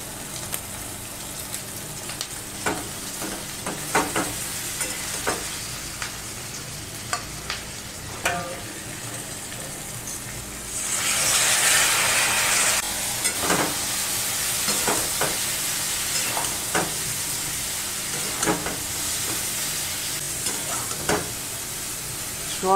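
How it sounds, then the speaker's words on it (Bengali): Soybean chunks fry in oil with already fried onion and garlic, a steady sizzle broken by repeated scraping stirs of a utensil against the pan, the sizzle swelling louder partway through; no one speaks. "এখন আমি সয়াবিনগুলো দিয়ে দিচ্ছি।"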